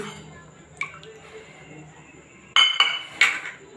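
A lid placed over a container of homemade yogurt, heard as a light clink followed by two louder close clattering knocks of the cover settling, in a quiet room.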